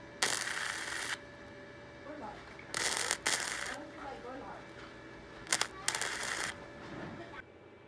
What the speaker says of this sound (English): But what I'm gonna do is just spot weld it.